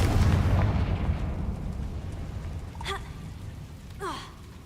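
Confringo fire spell blast in Hogwarts Legacy, a heavy booming explosion that rolls and fades, followed by brief magical chiming whooshes.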